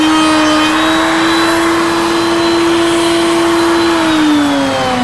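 Kreg beaded face frame system router cutting a second pass through 1.5 inch wide wood stock at a woodworking fair, a loud steady whine with a sustained tone held for the whole stretch, dipping slightly near the end.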